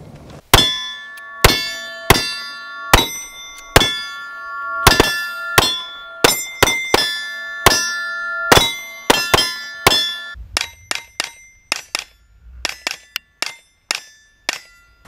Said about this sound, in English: the spring activates and allows for that really rich steel